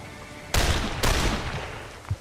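Two loud, sharp gunshots about half a second apart in the video game Lamplighter's League, each with a short reverberant tail fading into quiet.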